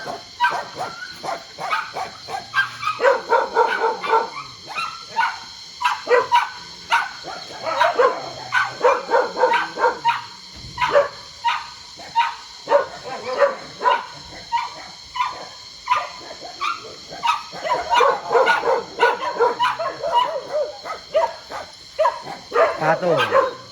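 Rescued stray dogs at a shelter in Wuhan, China bark in a near-constant chorus of repeated sharp yaps and woofs, with occasional whimpers, close and loud throughout; a person speaks intermittently beneath the barking.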